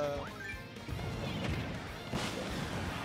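A grenade going off in a video game, a loud crashing blast with sustained rumbling debris that fills the whole stretch, close and dense, with a brief whoosh early on.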